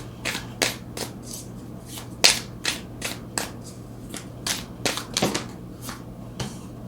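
Tarot cards being shuffled and drawn, a steady run of crisp, close riffling flicks and snaps with a few sharper card slaps, steady and fairly quiet, with no voices.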